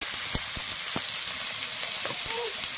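Moong dal sizzling in ghee: a constant close frying hiss broken by sharp crackling pops at irregular moments.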